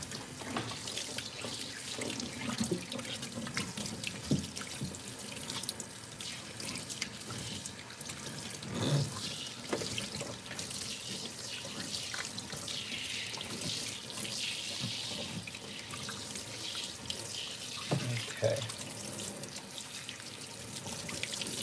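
Tap water runs steadily while shampoo is rinsed out of a dog during a bath, a continuous close splashing rush with small drips and shifts in flow, no talk.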